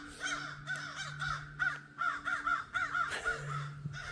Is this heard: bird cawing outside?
yes